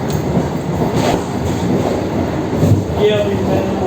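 Vande Bharat Express train picking up speed, a steady loud rumble of wheels and carriage with faint rail clatter, heard from inside the moving train.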